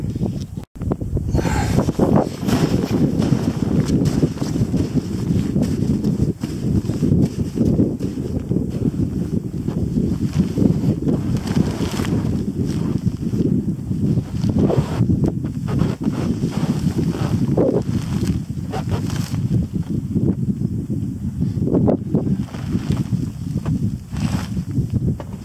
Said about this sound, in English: A little bit challenging in the wind